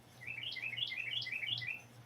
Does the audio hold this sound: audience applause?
no